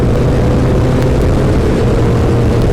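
A 1988 Kawasaki ZX10 motorcycle engine roars steadily and loud, a dense continuous drone of revs and wind rush with no pauses.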